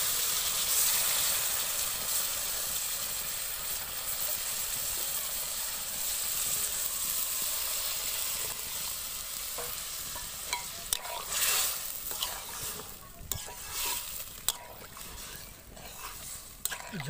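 Water poured into a hot pan with a spiced fish and vegetable curry, a soft steady hiss and simmer that turns into bubbling with scattered clinks and stirring toward the end.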